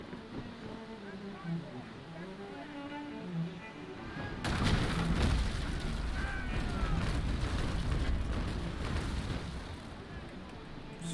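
A broadside of ship cannons fires in the Naval Action naval combat game, a sudden loud burst of many rapid overlapping booms rolling into a sustained rumble, preceded by a stretch of voice talking over a quieter background of sea and wind.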